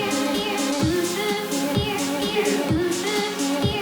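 A buzzy layered synth chord of low-passed saw waves with white noise hissing on top, pulsing with a steady low thump underneath, loud and continuous.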